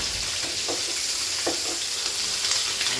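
Chayote and squash fry in a pan with a steady, dense sizzle that stays even throughout, marked by a few soft stirring scrapes and no talk.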